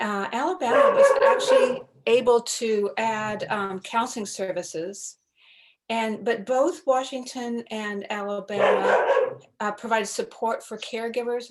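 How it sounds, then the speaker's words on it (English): A dog barks in the background of an online meeting in a couple of short bursts, mostly under a person speaking steadily. "Sorry about my dog."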